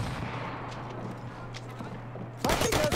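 A trench gun fired from the hip in the video game Battlefield 1 gives a single loud, sharp blast near the end, after a stretch of low, steady game ambience.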